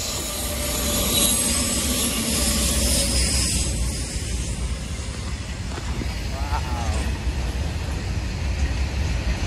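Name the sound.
train running on tracks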